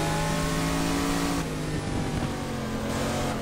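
Heavy race car in GT Legends, engine droning steadily at high revs with strong harmonic tones, loud and close throughout, pitch shifting slightly midway as it runs on track.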